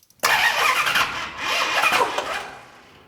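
A 1969 Dodge Charger with an EFI conversion cranks over and catches roughly, a loud, close, continuous engine burst of about three seconds that surges twice before fading, with no talk.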